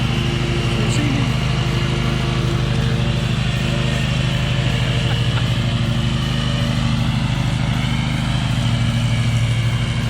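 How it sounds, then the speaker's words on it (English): Lawn mower engine running steadily while mowing, a continuous droning hum with a constant pitch, heard close and loud for the whole stretch, with occasional faint speech under it. "He's back there mowing right now."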